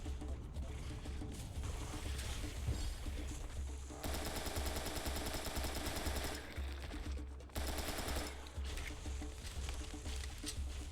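Assault rifle fire in the video game Serious Sam III: BFE, loud sustained bursts of rapid automatic shots with heavy low rumble, briefly pausing and resuming, blended with game effects and possible faint voices.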